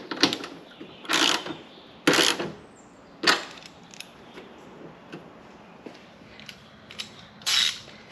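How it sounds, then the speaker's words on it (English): A 12mm socket ratchets a hood lift strut bolt snug on a 2017+ Chrysler Pacifica, giving several short, sharp clicking bursts spaced a second or so apart with quiet gaps between, close and alone. "we're going to grab our 12mm socket and get it snug"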